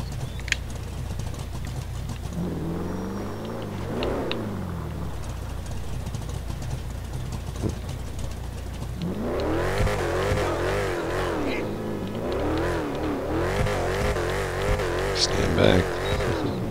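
The engine of an Albany Franken Stange hot rod in GTA 5 Online revs in a few short rising and falling bursts, then settles into a longer, louder stretch of repeated throttle blips that rumble at close range.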